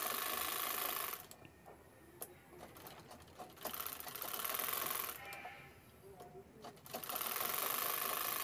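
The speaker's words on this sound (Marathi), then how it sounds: "इथे मी पॉकेट तयार करत आहे आतल्या साईडने लावण्यासाठी." A domestic sewing machine stitches an inner pocket for a simple fabric bag in close, loud bursts of steady whirring, stopping briefly twice between runs, with someone speaking in the pauses.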